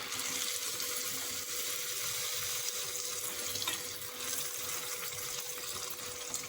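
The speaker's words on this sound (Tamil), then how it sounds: "நம்ம ரெடி பண்ணி வச்சிருக்க பூரியை எண்ணெயில் போட்டுக்கலாம்." Puri deep-frying in a kadai of hot oil gives a dense, even, steady hiss and bubbling that holds at a constant level throughout.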